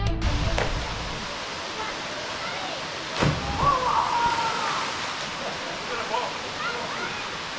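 Waterfall at Adcock Gorge, a steady broad rush of falling water with occasional splashes and knocks nearby, while a voice speaks over it.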